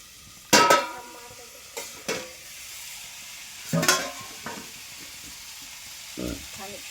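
Fish coated with turmeric fries in a pan and is stirred, giving several sharp scrapes and clatters of a utensil over a quiet sizzle, spaced irregularly and close by.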